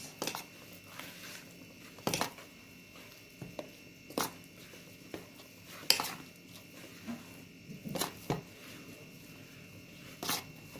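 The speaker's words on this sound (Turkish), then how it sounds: "Unumuzu karıştırıyoruz." Flour being stirred in a bowl while making cookie dough, heard as scattered knocks and scrapes of a utensil against the bowl, with sharper clinks every second or two, close by and fairly quiet with no talking.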